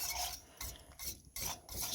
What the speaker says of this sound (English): we're going to spend some time whisking it up